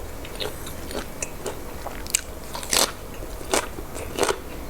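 Someone chewing crunchy fresh vegetables with grilled pork, close-up crisp bites and crackling crunches at an irregular pace over a soft background hiss.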